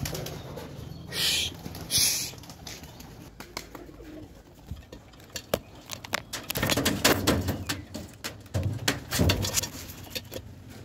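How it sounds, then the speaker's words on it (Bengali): A flock of pigeons is released to fly, with scattered sharp knocks early on giving way to dense bursts of flapping wings and faint cooing underneath. "গাইজ এখন পায়রাগুলোকে উড়িয়ে দেবো"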